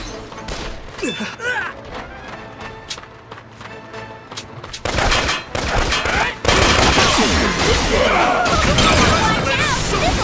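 Gunfire in the video game Valkyria Revolution, bursts of rapid shots and crashing impacts that grow dense and loud, with game music and battle noise throughout.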